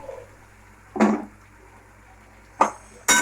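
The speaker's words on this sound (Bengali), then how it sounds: "এবার দিয়ে দেবো পটলগুলো।" Pointed gourd pieces go into a pan of shrimp, giving three separate bursts of sizzle and clatter over a low, steady background hum.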